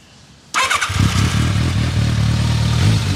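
A 2000 Kawasaki ZRX 1100 motorcycle engine cranks and catches after a short quiet lead-in, then settles into a loud, steady, close idle with an even throbbing pulse.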